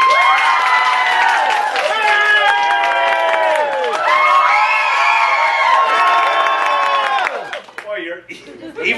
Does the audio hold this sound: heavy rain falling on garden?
no